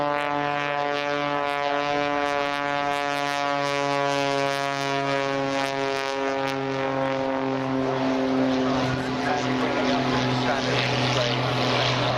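A Pitts Special S2S aerobatic biplane flying aerobatic manoeuvres at an air show in Portrush, its loud propeller engine droning with a steady tone that shifts pitch as it manoeuvres.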